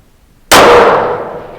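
A single sharp, loud shot from a TUBB Adaptive Target Rifle at long range, a sudden crack followed by a ringing decay that fades over about a second, heard close and alone.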